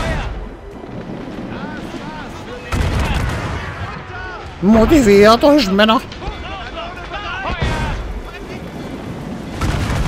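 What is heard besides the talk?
ship cannon fire in a video game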